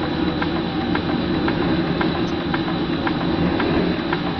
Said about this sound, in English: This is the first time, probably in 100 years, that the Virginia City engine has been under live steam.